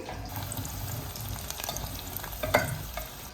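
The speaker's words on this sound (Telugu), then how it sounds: "ఇది బాగా ఫ్రై అవ్వాలి" Nellore-style pulusu fries in a pan with a steady close sizzle, and light stirring scrapes plus one brief clink are heard.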